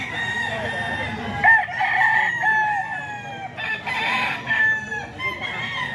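A young banded rooster (stag) crowing repeatedly in a yard, several loud nearby cock-a-doodle-doo calls overlapping with other fowl sounds.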